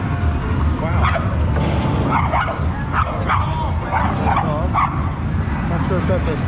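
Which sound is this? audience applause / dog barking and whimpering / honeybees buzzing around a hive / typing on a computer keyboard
dog barking and whimpering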